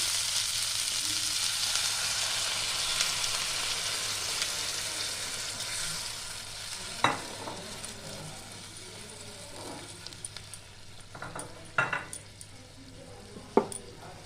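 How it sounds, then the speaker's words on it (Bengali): Spice paste for a potato and papad sabzi sizzles in a pan after a little water goes in. A loud initial hiss fades to a softer frying bubble, punctuated by several sharp scrapes and clinks of stirring. "এবার আমি অল্প করে জল দিয়ে দিলাম"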